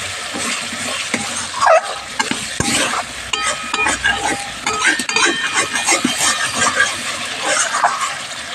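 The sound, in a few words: masala spices frying in oil in a pan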